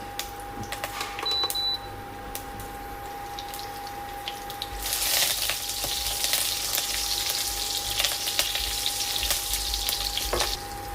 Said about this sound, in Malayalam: നെയ്യൊക്കെ ചൂടായി അതിലേക്ക് രണ്ട് ബേ ലീഫ് കറുവാപ്പട്ട തക്കോലം ഗ്രാമ്പു ഏലക്ക കൂടെ രണ്ട് പച്ചമുളക് കീറിയതും കൂടെ ചേർക്കാം